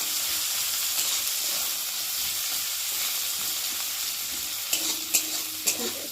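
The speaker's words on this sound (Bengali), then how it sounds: "পেঁয়াজটা ভালো করে একটু ভাজা করে নেব" Chopped onion frying in oil in a pan while being stirred, a steady close sizzle with soft scraping, a few louder spatula knocks near the end; no talk.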